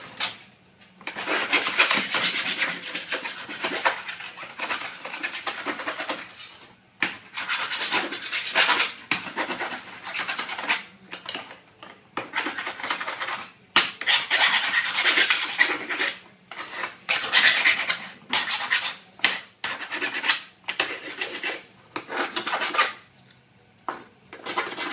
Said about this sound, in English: file all your sharp edges off.